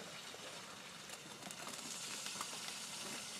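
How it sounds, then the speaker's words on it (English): Steady, dense sizzling and crackling of food frying on a wood-burning camping stove, with faint pops scattered throughout and no voices. "You can hear it sizzling now"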